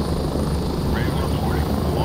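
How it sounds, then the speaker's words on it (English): A helicopter in the Gray Zone Warfare video game flies in to land, a loud, steady rotor and engine roar filling the whole stretch without a break. "I know the helicopter's landing there."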